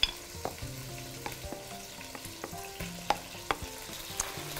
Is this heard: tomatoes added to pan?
yes